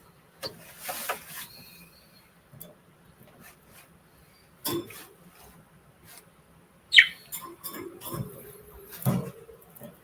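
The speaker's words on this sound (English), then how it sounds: "I can hear birds outside." Birds sing outdoors in faint, scattered chirps and one brighter sweeping call, heard at a distance through a quiet room with occasional soft clicks and rustles.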